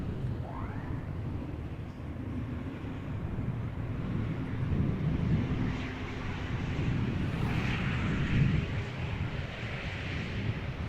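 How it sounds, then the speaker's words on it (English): A high-altitude airplane drones steadily overhead near Amsterdam Schiphol Airport, a faint, continuous low rumble mixed with wind buffeting on the microphone, slightly swelling and fading without talk. "I heard an airplane at great altitude"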